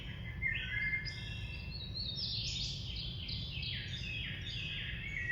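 Wild birds sing early-season songs in late spring or early summer: a run of bright, high warbling phrases repeated steadily over a constant low rumble of background noise, with no talking.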